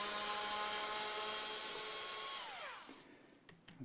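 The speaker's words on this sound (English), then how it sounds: "I'll use my other screwdriver with the torque setting" An electric screwdriver with a torque setting tightens a screw on a left-handed Fender USA Jazzmaster guitar: a close, steady high whine that winds down in pitch near the end, followed by a few faint clicks.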